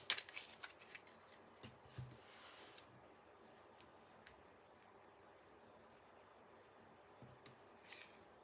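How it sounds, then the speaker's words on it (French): Tarot cards being shuffled and drawn, a burst of crisp riffling and flicking in the first few seconds, then sparse soft clicks and taps of cards laid down in a quiet room. "Allez, on va tirer nos 5 cartes."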